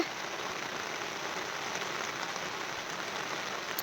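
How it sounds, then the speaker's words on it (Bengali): A constant hiss of rain fills the air, an even, unbroken wash of falling water with no voices or breaks. "এই যে দেখুন, বৃষ্টি কিন্তু এখন খুব জোরে এসছে"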